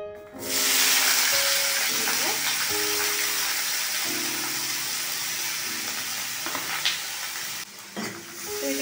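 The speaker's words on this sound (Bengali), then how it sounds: "একটু ভেজে নেব এবং দেখবো যাতে এটা একদম মজে যায়" An ingredient fries in a pan for a Bengali dal, with a steady broadband sizzle that starts abruptly and holds loud throughout, over faint tonal background sounds and brief speech-like murmurs.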